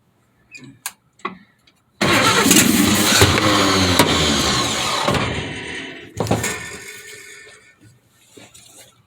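Abandoned 1953 Chevy 3100 truck engine: a few brief cranks, then it fires and roars loudly for several seconds, dies down, and surges again briefly, close and alone.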